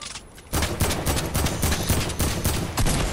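Rapid gunfire rattles in a Fortnite match, with a brief quieter stretch and then dense, loud bursts of overlapping shots that keep going without pause.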